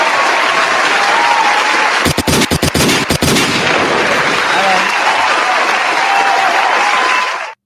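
Audience applause at a casual porch talk gathering, a dense steady wash of clapping lasting several seconds, with a short burst of sharp loud claps near the middle and a brief spoken word over it.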